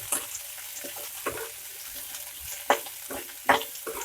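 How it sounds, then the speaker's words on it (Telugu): Onions fry in a pan for chole, a soft steady sizzle with occasional sharper stirring scrapes, fairly quiet and close. "ఉల్లిపాయలు గోల్డెన్ కలర్ వచ్చేదాకా ఫ్రై చేసుకున్నాము."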